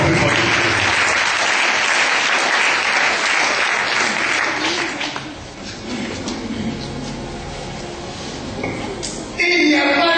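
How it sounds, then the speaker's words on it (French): A church congregation in full, loud applause and cheering for the Lord, a dense sustained roar of clapping that eases slightly midway before swelling again near the end. "Acclamons le Seigneur. Acclamons plus fort."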